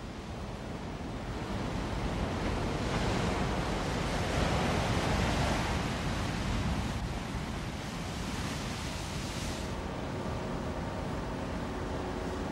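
Ocean waves wash onto a sandy Andalusian beach in a continuous broad roar with gentle swells, steady and fairly close, with some wind rumble in the microphone and no voices.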